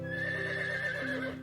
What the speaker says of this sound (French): C'est Prince, ton nouveau cheval